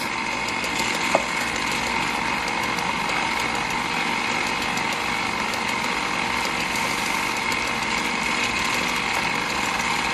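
Electric mixer running continuously while mixing pound cake batter, a steady loud whirring drone with no pauses.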